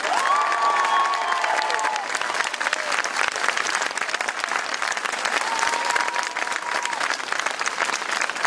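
Sustained audience applause for Franck Ferrand at a public event on the Plantagenets, dense steady clapping with some cheering throughout, loud and continuous from start to finish, with a brief voice near the beginning.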